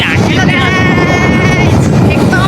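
Wind buffets the microphone on a motorbike ride at roughly 40 to 70 km/h, a loud, continuous roar that fills the clip while a rider talks over it.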